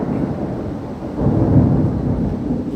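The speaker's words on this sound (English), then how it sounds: "I love storms." A close thunderstorm, with a deep, heavy roll of thunder swelling midway over a steady hiss of rain.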